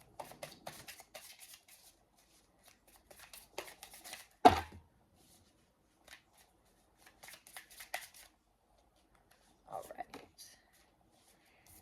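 Animal spirit oracle cards shuffled by hand, soft riffling flutters and taps in scattered bursts with one sharper slap, fairly quiet and close.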